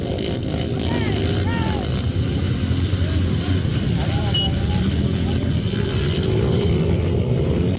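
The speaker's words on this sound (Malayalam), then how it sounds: "ഇതിനിടയിലൂടെ ബൈക്കുകൾ ചീറിപ്പാഞ്ഞു." Motorcycles race on a dirt track at a carnival ground packed with thousands of spectators, with engines revving and whining steadily under a constant crowd roar while a voice talks over it.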